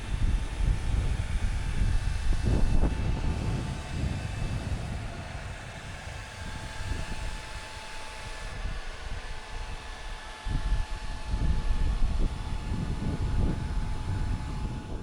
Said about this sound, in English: Fan just kicked on.